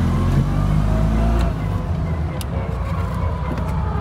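Car engine running with a zip tie standing in for the fan belt, a steady low drone heard from inside the cabin that eases off partway through.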